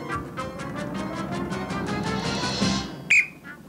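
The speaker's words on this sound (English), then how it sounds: "And there goes the whistle." A referee's whistle ends a Granada TV game show round in 1983. It gives one short, sharp blast near the close, over busy studio noise and crowd sound.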